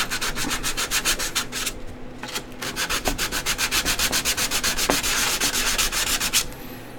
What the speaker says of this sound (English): I don't know why I'm using a sanding stick for this.